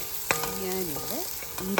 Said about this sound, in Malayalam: അതിലേക്ക് കാഷ്യൂവും ആ കപ്പലണ്ടിയും റോസ്റ്റഡായിട്ടുള്ളത് ചേർത്ത് കൊടുത്ത് ഒന്നുകൂടെ സോട്ട് ചെയ്യുക.